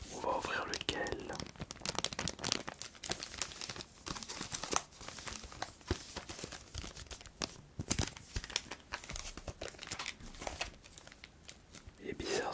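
Crinkling and tearing of a Pokémon card pack wrapper being handled and opened close up, with soft whispering running through the whole stretch in a quiet setting.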